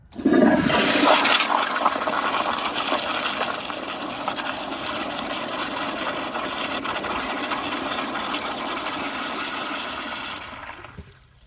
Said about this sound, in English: let's still give it one last flush